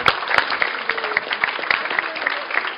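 A real estate seminar audience applauds coach Mike Ferry with sustained, fairly loud clapping from many hands and a few sharper individual claps on top.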